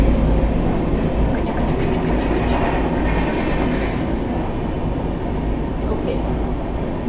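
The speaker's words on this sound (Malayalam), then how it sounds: "ട്രെയിൻ" A train rolls past close by, a steady loud rumble of wheels and carriages that runs through the whole stretch with no voices.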